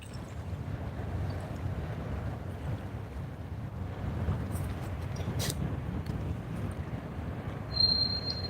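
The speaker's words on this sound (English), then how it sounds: "Yeah, it definitely is windy over here." Steady wind blowing at a freshwater fishing spot, a continuous low rushing roar that holds for the whole stretch with no voices.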